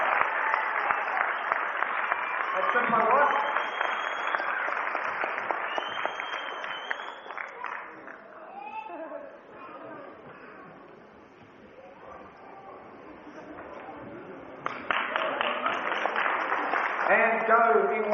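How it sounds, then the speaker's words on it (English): At a 1988 tournament award presentation, an audience applauds guests, a steady wash of clapping heard under someone speaking over a PA, swelling again into fuller applause near the end. "Give them a round of applause,"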